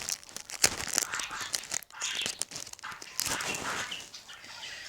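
A plastic bag crinkles and rustles up close in irregular bursts as a livestock nose ring is unpacked, the sounds fairly quiet and faint.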